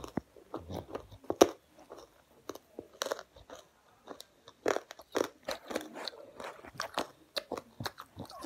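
Crunchy Japanese shrimp chips are bitten and chewed up close, a rapid irregular run of sharp crisp crunches and crackles with brief pauses, loud and alone with no speech.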